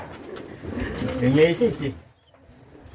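A racing pigeon back from a Tacloban derby race gives a soft throaty coo, close to the microphone, while someone speaks over it.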